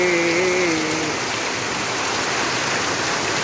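Steady heavy rain pours down and drips into a broken-down house, a loud, continuous hiss of falling water with a brief low hum at the start and no talk.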